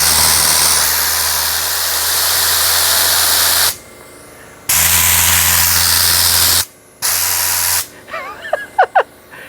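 The Rag Company Ultra Air Blaster, a car drying blower with a cracked housing, roars with a loud steady rush of air in three long bursts separated by short pauses, then fades into a few faint clicks and thumps at the end.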